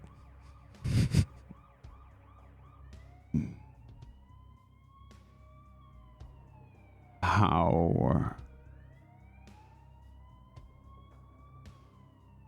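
Several ambulance and police car sirens wail and overlap in a city street heading toward Bourbon Street, their rising and falling tones carrying at a moderate distance, with a few loud bursts of noise and a brief spoken word.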